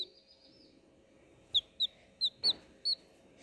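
Colour-dyed baby chicks kept indoors in a room, giving five short, high, clear peeps spaced about half a second apart, close and distinct over a low steady background hum.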